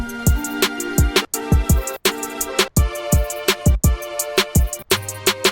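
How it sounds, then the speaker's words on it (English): Crisp hi-hats tick in a steady loop over punchy kick drums and a tonal beat, the pattern repeating with short gaps between bars. "I'm gonna put a hi-hat loop under it"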